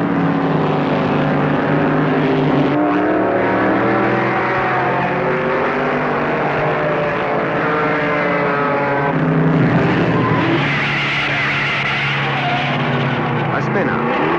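1970 Trans Am race cars at Lime Rock roar past, engines wailing and shifting pitch as they pass, loud and continuous, with a narrator's voice running over much of the racing noise.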